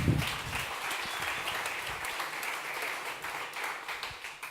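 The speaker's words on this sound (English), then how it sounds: "If we can give them an early round of applause to get the energy up" Audience applause for finalists at a startup competition on stage, a steady sustained wash of many hands clapping throughout, fairly loud and even, without talk.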